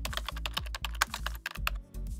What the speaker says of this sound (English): You can view these server options by typing show option